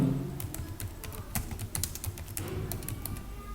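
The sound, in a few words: typing a name on computer keyboard in Excel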